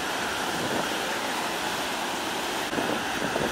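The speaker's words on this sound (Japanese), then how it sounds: "お、これはちょっと速い波ですね。" Ocean surf roars continuously during a typhoon in Okinawa as a fast wave breaks, a loud, dense wash of crashing water and wind noise with no clear pauses.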